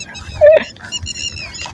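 A female dog near a grassy outdoor spot gives a short whine or yelp, then a few softer whimpers, close by against a quiet background.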